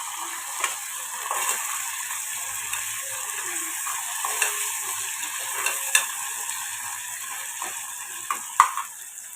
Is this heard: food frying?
yes